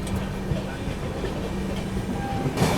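The 15658 Brahmaputra Mail rolls along the rails with a loud, steady rumble and faint wheel clatter heard from on board.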